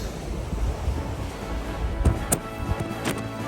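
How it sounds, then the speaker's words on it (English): Strong, steady wind buffets and roars across the microphone high on a clifftop fortress, a continuous rumbling gust with a few brief knocks and thumps mixed in. "this wind up here is crazy"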